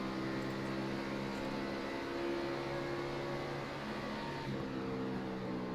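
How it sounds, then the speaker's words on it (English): A stock race car in the iRacing sim at Homestead, its engine droning steadily with a sustained whine as the driver struggles back onto the throttle, the tone shifting slightly near the end. "you hear Kosick really struggling to get back to the throttle"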